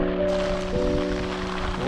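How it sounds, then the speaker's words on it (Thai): Heavy rain falls at Lam Takhong Dam, a loud and constant patter with a steady low mechanical hum running beneath it throughout. "แต่ว่าฝนนองมากมากครับ"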